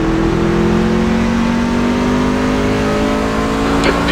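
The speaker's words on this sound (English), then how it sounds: "Car approaching. Watch your mirrors." Racing truck engines at Talladega, heard from a crow's nest spotter position: a loud, continuous engine drone with the pitch slowly sliding as a truck approaches, and a brief higher whine near the end.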